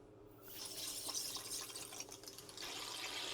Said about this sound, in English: we should hear water going into the house